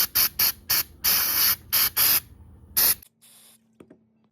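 Carburetor cleaner sprays onto the carburetor of a Stihl BR400 leaf blower in a series of short loud hissing bursts, then stops, leaving near silence with a faint hum and a small click.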